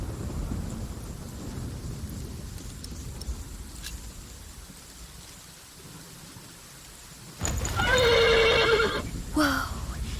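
A horse lets out a loud, close whinny near the end, followed by a shorter snort, over a steady background of rain and rumbling thunder.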